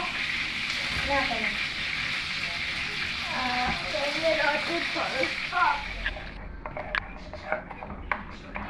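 Shish barak sizzles as it fries in a home kitchen in Lebanon, a continuous crackling hiss beneath people talking, with a few sharper pops and clinks toward the end.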